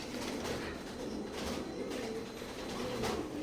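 A pair of Teddy breed pigeons coo softly nearby, low rolling calls repeating over a faint, steady background hum.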